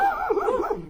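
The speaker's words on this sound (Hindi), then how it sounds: "हमारे कुत्ते हमें ही भौंक रहे हैं" A dog yelps and whines in a short burst during a traditional village poetry contest, a high, wavering cry that rises and falls loudly and close by.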